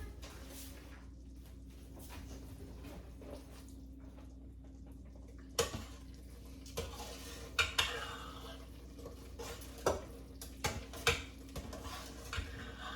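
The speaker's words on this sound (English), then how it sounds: "Okay, let's check out the pressure cooker. Oh, looks delicious. Let me give it a stir" Kitchari being stirred in a pressure cooker: after a quiet stretch, a spoon scrapes and knocks against the metal pot in a series of sharp, irregular clinks, close and fairly faint, over a low background hum.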